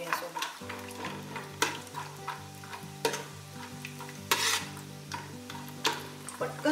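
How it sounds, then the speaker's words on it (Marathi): Dry fruits frying in a mix of ghee and oil for shahi mutton biryani, a steady soft sizzle broken by repeated scraping stirs of a utensil against the pan, with a low musical background underneath. "पटकन फ्राय होतात ड्रायफ्रुट्स"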